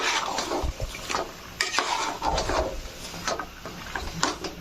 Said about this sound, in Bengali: এখন আমি একটু নেড়ে দিব।